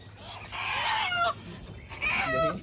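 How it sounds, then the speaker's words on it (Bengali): Native country chickens clucking close by, two short bursts of squawking calls over a faint outdoor background. "দেশি মুরগি"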